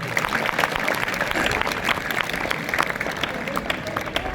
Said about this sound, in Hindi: एक बार तालियां एक बार और हो जाए